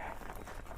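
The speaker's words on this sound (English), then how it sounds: "All I can hear is a dog barking." A dog barks somewhere in the distance, faint and steady against a quiet outdoor background near a horse trailer.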